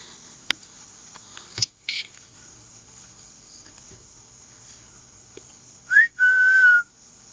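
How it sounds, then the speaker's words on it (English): A short whistle rises then holds a steady tone, faint and distant, after scattered clicks and taps in an otherwise quiet, dark-sounding space at night while camping. "I just heard a whistle."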